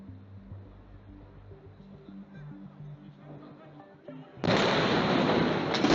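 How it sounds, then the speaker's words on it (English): A sudden, loud industrial fire explosion bursts in as a dense, sustained roar after several seconds of low rumbling and background music, with a faint voice beneath. "So at 11:34, the first explosion hit."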